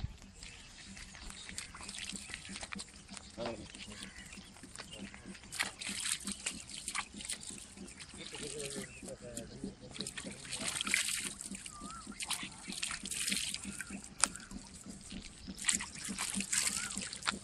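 River water trickling and sloshing nearby, a continuous uneven splashing flow with occasional voices in the background.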